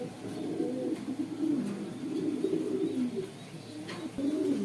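Racer satin pigeons coo close by, with repeated low, throaty, rolling calls that swell and fade in a steady rhythm, sometimes overlapping, with no talking.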